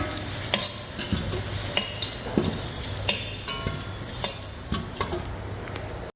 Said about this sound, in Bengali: তেলে দিয়ে আলুটা ভেজে নেব